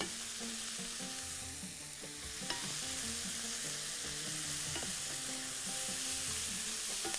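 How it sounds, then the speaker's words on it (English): Whole spices, bay leaves, cinnamon, cloves and black pepper, sizzle steadily in hot oil with browned onions for chicken machboos, a close and continuous frying hiss with small pops, and no voices. "I'm going to add the whole spices there, so throw out the flavor out of it"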